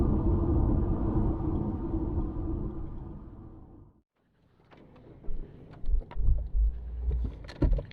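A car driving onto a beach on New Zealand's South Island in extreme weather: a steady loud rumble of engine and wind that cuts out briefly, then uneven crunching thumps and knocks as it rolls on.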